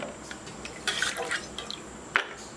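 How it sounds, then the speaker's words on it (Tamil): Onions, ginger and garlic rinsed in water for a Kerala-style fish fry and fish curry, with close splashes, drips and sloshing in a few short bursts over quiet background. "மீன் குழம்புக்கு வெங்காயம் அலசிக்கலாம் மீன் பொறிக்க இஞ்சி பூண்டு அலசிக்கலாம்"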